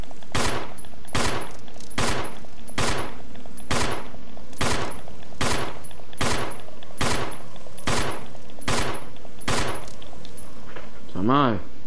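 In the Resident Evil 4 video game, a gun is emptied of all its ammo: eleven loud, evenly spaced shots, about one a second, with a short metallic clink at the very end.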